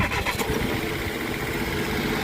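A freshly repaired car engine catches and runs, a loud, close, continuous mechanical rumble throughout the short stretch.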